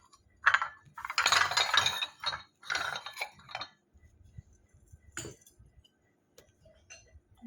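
Clay bowls, cups and plates clink and knock as they are handled and set down, a few clustered bursts of ceramic clatter followed by sparser, lighter taps in a quiet room.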